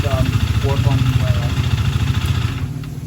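Husqvarna Svartpilen 401 motorcycle engine running close by with a steady, throbbing mid-pitched hum throughout, someone talking over it.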